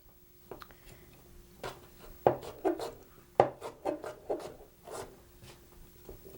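Knife dicing cucumber on a wooden cutting board: a quiet, uneven series of sharp taps and chops close by, with no talking.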